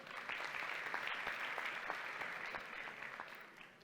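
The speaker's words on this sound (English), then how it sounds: "So give yourselves a round of applause." An audience at a health talk on managing stress applauds steadily, a dense, even wash of many hands clapping at close range, holding for several seconds before tapering off at the end.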